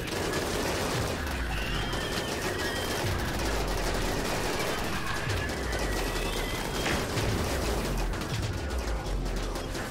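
Colonists in RimWorld fire a dense, continuous barrage of gunshots, with rapid overlapping reports and repeated heavy thuds throughout, loud and unbroken with no talking.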